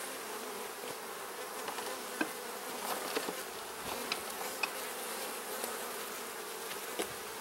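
Honey bees buzz steadily at an open beehive while brood boxes are inspected, a dense, continuous close-up drone with a few sharper insect passes flicking by.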